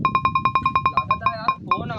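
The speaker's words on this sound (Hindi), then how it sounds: "लागत है यार फोन आता है" A mobile phone ringtone plays a rapid, repeating electronic melody of short bright tones, loud and close, with a few faint background noises beneath it.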